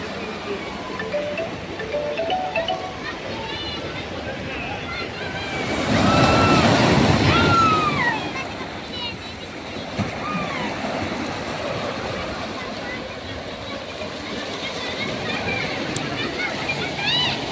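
Sea waves breaking on the shore at New Digha: a steady wash of surf that swells into a louder crash in the middle, with wind buffeting the microphone and a person talking over it throughout.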